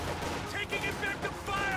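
Gunfire from a battle in the video game Reign 2: dense, overlapping bursts of shots and explosions that keep crackling without a pause, loud and close, with voices mixed in.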